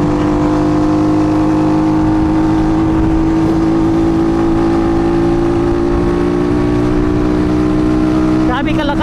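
A water-cooled four-valve Rusi Flash 150 scooter engine revs loud and close, its tone climbing steadily under acceleration, with a voice briefly audible near the end.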